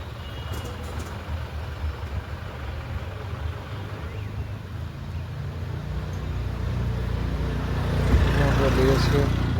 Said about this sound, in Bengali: লেগেছে গাড়ির পুরো জ্যাম।